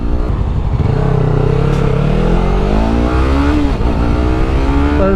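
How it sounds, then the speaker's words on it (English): Yamaha R3 motorcycle pulled to full throttle, engine note climbing steadily through the revs, loud and close with continuous roar and no pauses, no talk over it. "It's just so much fun to full pin this bike"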